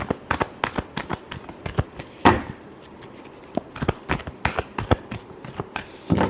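Tarot cards are shuffled in quick bursts of crisp riffling snaps and taps, close and fairly soft, with a short pause in between.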